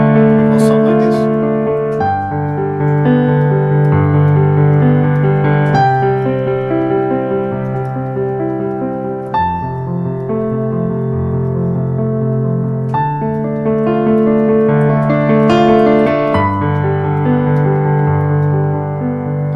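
A keyboard plays a melody over a chord progression, close and sustained, with stepwise notes ringing above held chords at a steady moderate pace and no voices.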